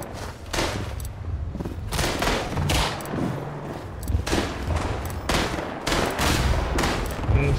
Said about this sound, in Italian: sento gli spari